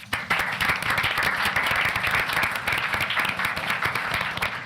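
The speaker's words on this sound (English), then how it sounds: "Can we give Becky a hand clap" Audience at a school board of education meeting giving a teacher a round of hand claps, dense close applause of many hands, steady and fairly loud for several seconds with no talk.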